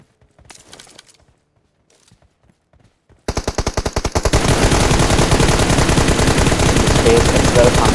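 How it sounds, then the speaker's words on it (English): Gunfire in a PUBG Mobile esports match, a few faint distant shots followed by a loud, close burst of rapid automatic fire that continues as sustained heavy shooting. "coming in from Clumsy from TGR, taking the shot towards the vehicle"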